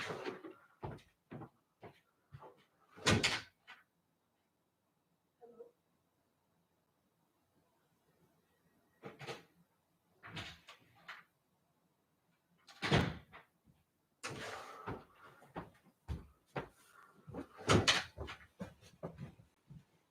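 Several knocks and clunks of a door being handled, with a quiet pause in the middle, then more bumps and thuds close by.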